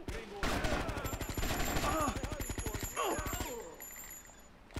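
Rapid automatic gunfire in GTA: Vice City, a dense run of sharp shots that fades toward the end, with game sounds mixed in underneath.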